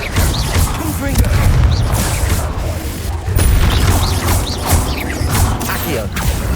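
Confringo blasting spells cast again and again in Hogwarts Legacy combat, heavy booming bursts and mechanical clatter layered over a dense, loud battle din with a voice nearby.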